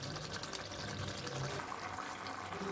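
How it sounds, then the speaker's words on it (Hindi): Boiled chickpeas and their cooking water poured into frying masala for Lahori black pepper chana, a steady close splashing, trickling wash with a low sizzle underneath, continuous and fairly soft, no one speaking. "और इनमें थोड़ा सा पानी है, ये भी पानी और ये चने सारा मैं इसमें डाल देती"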